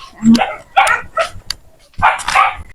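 A dog barks beside a cemetery, several loud close barks in quick uneven bursts, a short pause, then another pair of barks, with no talk over them.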